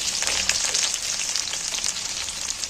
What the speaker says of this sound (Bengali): এবার এই তেলের মধ্যে গোটা পেঁয়াজগুলো তুলে দিচ্ছি।